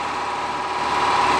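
A 3-horsepower air compressor motor with a two-piston head and 100-litre tank hums steadily close by, a constant mechanical drone with a faint pulsing vibration and no voices.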